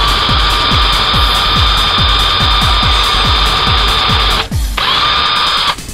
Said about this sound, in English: drill hole into the bottom board of our box, so it'll give the screw a starter to go into